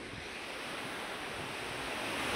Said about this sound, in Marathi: दरवाजातून असं पाणी पडायला लागलं पूर्णपणे